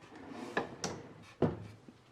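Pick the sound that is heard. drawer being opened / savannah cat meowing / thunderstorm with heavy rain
drawer being opened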